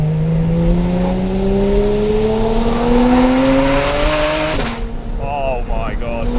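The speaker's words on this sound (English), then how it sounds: "let's go windows down, hit a few downshifts. And let's open her up a bit" Porsche Cayman engine on a country lane, revving hard through a rising pull with a sharp downshift blip near the end, loud and close, followed by a quieter settle as the pitch drops.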